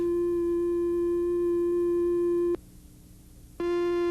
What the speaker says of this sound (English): Another oscillator produces a triangular wave.